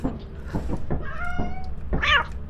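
A cat meows several times in Lethal Company, a string of short mews building to a louder, drawn-out cry near the end, close and clear with no talk.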